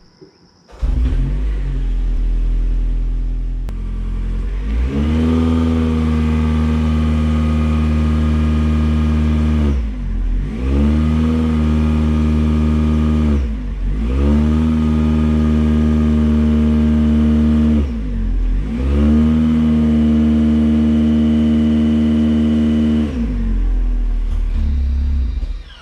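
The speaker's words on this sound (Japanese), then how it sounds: "エンジンのサウンドがすごい低音によってジェントルな感じになっているのがわかるかと思います。" Ganador PASION EVO muffler on a new-model Toyota Prius: the engine is held at a loud, deep, steady drone in four long limited revs, each dipping briefly before rising again, with no talk.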